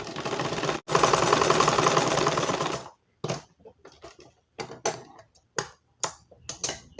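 Sewing machine stitching the side of a blouse neck piece, running in a steady loud continuous burst for about two seconds, then stopping, followed by scattered short ticks and handling noises as the fabric is adjusted.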